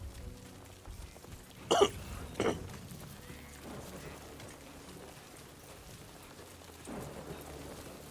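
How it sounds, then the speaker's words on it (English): Two sharp, brief hiccups close together near the start, then a quiet, noisy room with faint low rumbling. "I got the hiccups"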